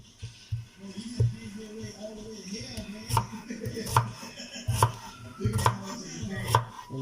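Onion chopped with a knife on a cutting board in a home kitchen, a steady series of close, crisp knocks in uneven rhythm, about a dozen strikes, with no talking.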